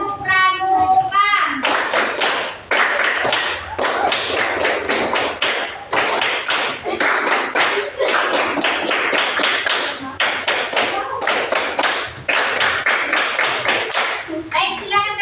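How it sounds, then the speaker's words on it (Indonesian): A classroom group does a scout clap, clapping in a fast, patterned rhythm, repeating the same sequence three times, loud and close, with a brief voice at the start. "mari kita sambut kelompok 2 dengan 3 kali tepuk pramuka"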